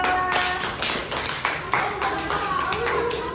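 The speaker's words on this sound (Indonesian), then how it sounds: "Kasih tepuk tangan untuk kelompok Toba" Students in a classroom clap for a presenting group, a quick, uneven burst of hand claps with sharp individual slaps up close, mixed with chatter and a few light pinging taps.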